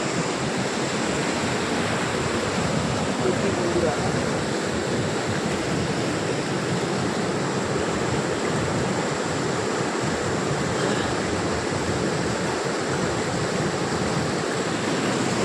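Mountain stream in Kharma Valley near Manali rushing steadily while a bottle is filled, a loud, unbroken broadband wash of water close by with no voices.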